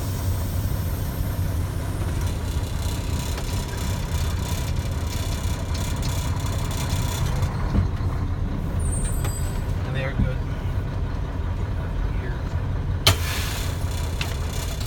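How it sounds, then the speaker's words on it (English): Truck air brakes hiss during a service brake check on a CDL Class A tractor-trailer, with a steady idling diesel engine rumble throughout and a sharp air release burst near the end; someone talks over parts of it. "I'm going to check my service brakes, make sure they're not pulling to the left or right."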